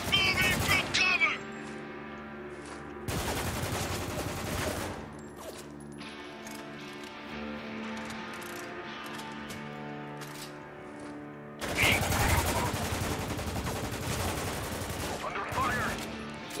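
Bursts of gunfire in the Spec Ops: The Line video game: two loud volleys early on, then a long stretch of quieter scattered shots and in-game sounds, and another heavy burst of fire near the end.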